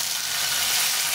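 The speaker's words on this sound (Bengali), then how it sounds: "তো টমেটোটা ভালো করে ভাজা হয়ে গেছে।" Tomato frying in a pan after onion, a steady close hiss of sizzling oil filling the whole moment with no voices.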